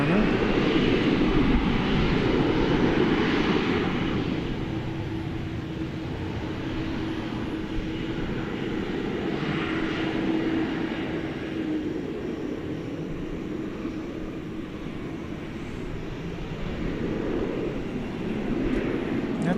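A Boeing 787-9 Dreamliner jet moves around Dallas Fort Worth airport at night, its engines giving a steady moderate roar with a low hum, rising slightly at the start and end, and people talking beneath it.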